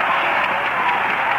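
Football stadium crowd at the 1965 Orange Bowl, Texas vs Alabama, roaring in a steady dense cheer across the whole short stretch, heard through an old radio broadcast.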